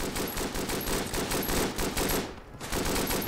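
Rapid light machine gun fire rattles continuously in the World War I shooter Verdun, loud and close with a brief break near the end before the burst resumes.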